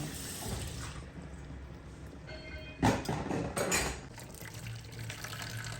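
Cold water is poured over freshly blanched vegetables in a kitchen, a steady close splashing pour that swells briefly midway.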